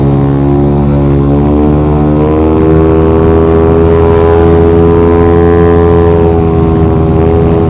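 Engine of a Yamaha Aerox 183cc scooter with an aftermarket exhaust pipe, a loud, steady, deep droning hum heard up close and throughout, rising slightly in pitch partway through.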